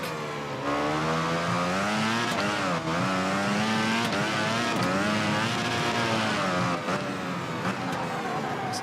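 MotoGP motorcycle engines from VR46: The Game, a steady high-pitched racing whine that rises and falls through gear changes and corners, loud and continuous with no talk over it.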